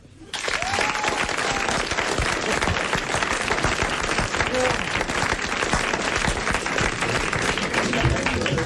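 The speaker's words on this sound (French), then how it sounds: "Je vous remercie pour les applaudissements." Dense, sustained applause from a large television studio audience in 1985, steady and loud throughout with a few faint voices mixed in.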